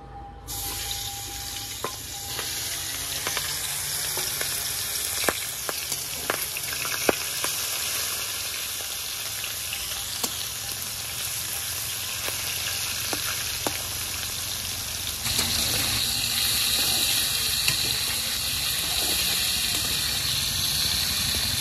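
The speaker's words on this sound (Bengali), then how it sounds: "এবার তেলে মাছগুলো ছেড়ে দেব।" Jiyol fish frying in hot oil in a heated wok (kadai): a steady, dense sizzle that holds for the whole stretch, with scattered crackles and pops and a slightly brighter hiss toward the end.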